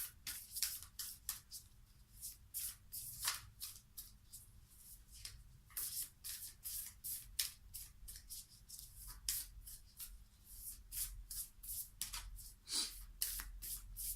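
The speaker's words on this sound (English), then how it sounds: "I like to kind of just shuffle these until one specifically calls me out, or a couple." Oracle cards are shuffled by hand in repeated quick riffling bursts, close and soft, with brief pauses between handfuls.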